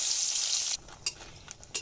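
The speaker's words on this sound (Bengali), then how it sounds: "প্রথমে তেলের মধ্যে কয়েকটা শুকনো মরিচ ভেজে নেব।" Dried red chillies sizzle in hot mustard oil, a steady bright hiss for most of a second that then drops away, leaving quieter crackles and a few sharp pops near the end; no voices.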